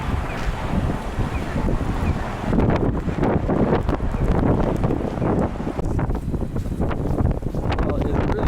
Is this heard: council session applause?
no